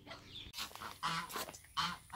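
Several geese honk in quick bursts, loud and close, with brief pauses between the calls.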